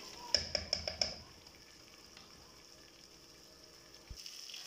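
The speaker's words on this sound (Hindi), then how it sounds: "चिकन को भी बस मैं 1 से 2 मिनट के लिए इसमें फ्राई करूँगी" Chicken frying in a pan, a quick burst of about five sharp clinks at the start, then a faint steady sizzle that goes on quietly before a short knock near the end.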